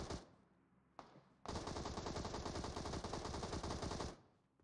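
Gunfire in the battle-royale shooter PUBG Mobile opens with a couple of sharp shots, then a sustained rapid automatic burst of about three seconds that fades out, fairly quiet overall with no voices.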